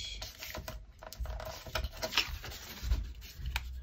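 Paper being folded along an edge gives soft, close crinkling and rubbing taps in short bursts, faint and uneven, with no voices.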